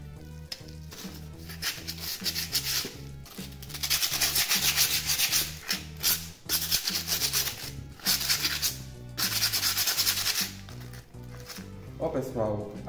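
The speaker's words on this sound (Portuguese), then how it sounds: "Pra gente lixar." Rhythmic abrasive rubbing as a decorative cement chicken is sanded, repeated back-and-forth scraping strokes close up and fairly loud, with music playing underneath throughout.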